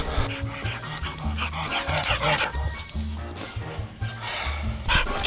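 Muddy, a dog that is mostly deaf, makes close, loud yips, pants and whimpers, with high whistle-like tones cutting in twice.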